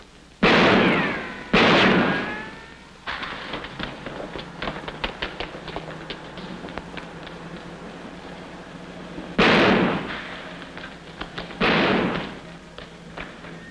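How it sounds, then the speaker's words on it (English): Gunshots in an old film scene: two loud close bangs at the start, a cluster of sharp cracks and taps in between, then two more heavy blasts near the end, with no speech. "Hey, stop or I'll shoot!"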